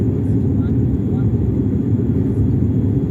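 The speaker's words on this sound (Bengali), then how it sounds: "এদিকে দেখা যাচ্ছে যে আমরা মাটির খুব কাছাকাছি দিয়ে এখন বিমানটি উড়ে যাচ্ছে" Airplane cruising low above the ground near Cox's Bazar, a steady, dense engine and wind roar filling the cabin without a break.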